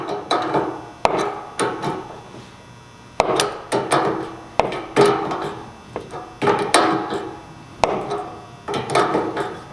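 An air line bushing is hammered into place with a series of sharp, loud metallic blows, struck in uneven clusters of two or three with brief pauses between, close and clear with no talking.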